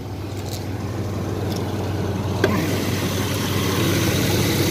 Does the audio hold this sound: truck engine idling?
yes